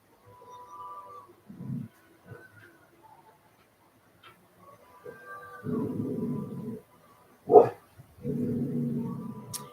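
A dog growls low and rumbling at people passing by, in several drawn-out bursts broken by one sharp bark, fairly close in a quiet room.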